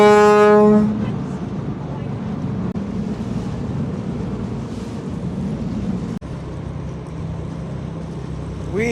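A deep, steady ferry horn blast sounds at the start as the boat leaves Hart Island, New York City, then gives way to continuous engine rumble and wind noise.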